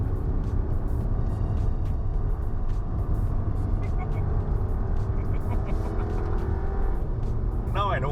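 2016 Volkswagen Passat B8 2.0 TSI Highline accelerating hard in S mode: a steady low engine drone from inside the cabin, moderately loud and even, with no talking.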